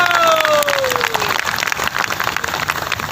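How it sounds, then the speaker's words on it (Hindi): Audience applause at Raju Shrivastava's live comedy show, loud, dense clapping filling a hall with a sustained crowd roar throughout, a tonal sweep fading early on. "ताली बजा के आशीर्वाद दीजिए"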